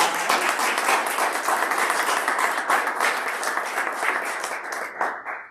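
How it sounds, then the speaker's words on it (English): An audience claps for panel speakers at a talk on the role of the state Assembly in the abortion debate, with dense, sustained applause that carries on for several seconds, then cuts off abruptly. "Give them a round of applause."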